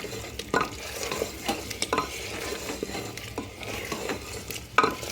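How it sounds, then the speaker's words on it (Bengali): Drumstick stalks, potatoes and spices are stirred and fried in a pan, with a steady sizzle and repeated scraping strokes of a spatula, plus occasional metallic clinks against the pan. "আমি এখন ডাঁটাটা দিয়ে দিচ্ছি। ডাঁটাটা আলুর সঙ্গে মশলার সঙ্গে ভালো করে মিশিয়ে নিচ্ছি।"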